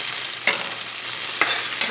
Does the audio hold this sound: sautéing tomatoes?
yes